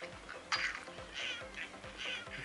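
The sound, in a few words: bird sounds from the Angry Birds video game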